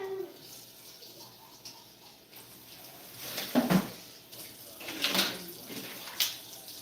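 A cooking pot is rinsed under running water, uneven bursts of splashing and sloshing rising and falling close by with a few soft clunks from the pot.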